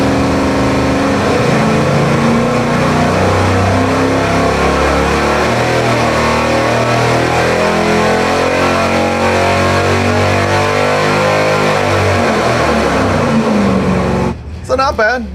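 Engine dyno pull on a nitrous-fed engine with a NOS Sniper kit jetted at 56 nitrous and 47 fuel, a loud, continuous roar rising steadily in pitch for about fourteen seconds before cutting off abruptly.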